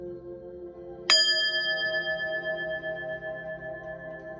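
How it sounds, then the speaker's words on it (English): A single bell is struck once to clear energy during a Sagittarius energy reading. It gives a bright, close strike followed by a long, pure ringing tone that fades slowly over several seconds with no talk. "I'm going to ring the bell, clear your energy"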